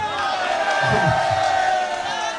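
A rally crowd chants slogans in unison, a loud, continuous roar of massed voices with rhythmic rising shouts, close and dense throughout.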